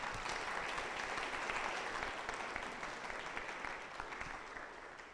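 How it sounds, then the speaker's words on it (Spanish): An audience at a Bible congress bursts into sustained applause welcoming a speaker, a dense wash of many hands clapping that stays full and then gradually eases toward the end. "Recibámoslo con un fuerte aplauso"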